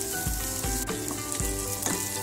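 Bay leaves and lemongrass sizzle steadily in hot oil in a pan for pindang kuning, a constant close frying hiss with a few soft stirring bumps and no voices.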